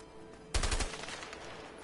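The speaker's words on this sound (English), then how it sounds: "go towards the gunfire" Video game gunfire: a short, loud burst of several rapid shots erupts suddenly, then gives way to a quieter, noisy background.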